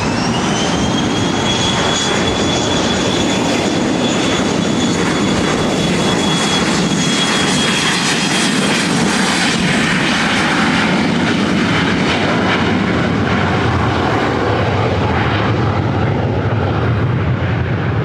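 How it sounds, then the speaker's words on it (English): An Alaska Airlines Boeing 737-700 jet takes off at LAX, a loud, steady roar with a rising whine that fills the whole stretch and slowly fades as it climbs away. "I also have that Alaska 737-700 heading up here for a takeoff to SFO."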